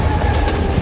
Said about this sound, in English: The train is traveling at more than 160 kilometers an hour.